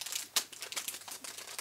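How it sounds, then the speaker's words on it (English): A gold paper envelope with a gold bow being opened up close, giving quiet rustling and crinkling with one sharper tear-like crackle early on. "All right, I'm going to open up this envelope here."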